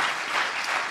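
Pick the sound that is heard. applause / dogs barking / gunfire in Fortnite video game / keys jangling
applause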